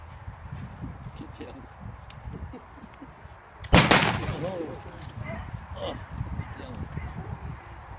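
A single loud pistol shot in a duel, sharp and sudden midway through, ringing out over a low rumbling background with faint talk before and after.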